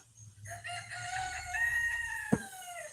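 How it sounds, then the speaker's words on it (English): A rooster crows once in a long, drawn-out cock-a-doodle-doo, clear and moderately close, ending with a brief knock, and no one talks. "I feel like the rooster laughing at me."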